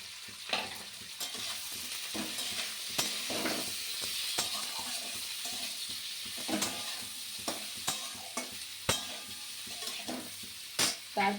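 Ingredients for spinach ghonto sizzle in a pan as they are stirred until browned, with a soft continuous fry broken by sharp intermittent clinks and scrapes of a spatula against the metal.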